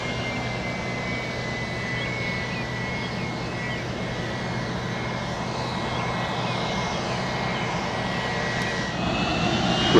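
An airplane takes off at Spirit of St. Louis Airport, its engine roaring in a broad, steady drone that holds close and loud throughout and swells slightly at the end.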